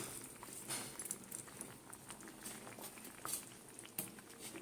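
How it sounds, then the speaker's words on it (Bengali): Curry gravy made with omelette pieces simmering on low heat in a pot, a soft, continuous bubbling and popping close by, quiet and without speech. "ঝোল কিন্তু আমার ফুটছে"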